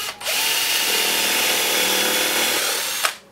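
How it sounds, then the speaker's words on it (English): Power drill boring into wood with a Forstner bit, a steady loud whirring grind lasting about three seconds before stopping abruptly. "we're going to have to use what's called a Forstner bit"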